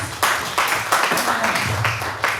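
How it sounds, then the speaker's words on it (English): Audience at a university Women's Day event clapping for a panel, a short burst of hand claps with sharp, uneven accents, fairly close and loud, with nobody talking over it. "Let's give all our panel a round of applause."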